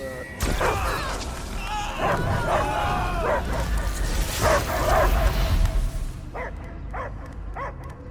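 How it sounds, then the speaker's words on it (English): A dog in the video game Guardians of the Galaxy barks and yips in a string of rough bursts, then whimpers in a few short cries at the end, mixed with game voices and effects. "I hear only barking."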